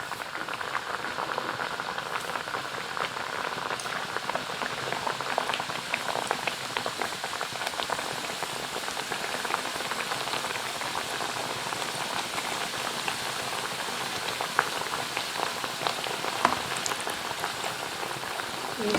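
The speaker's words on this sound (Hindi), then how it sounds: "हमने हल्की आंच पर इनको फ्राई करना है" Sweet tikiyan fry in a pan of oil over low heat, a dense, even bubbling and spattering hiss that runs unbroken and steady, close and moderately loud.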